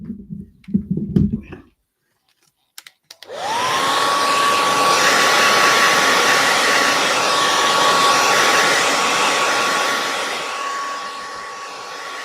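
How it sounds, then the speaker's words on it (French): After a few clicks and a pause, a hair dryer switches on and blows steadily with a loud broadband whoosh and a thin whine that holds to the end. "Let's try with the hair dryer."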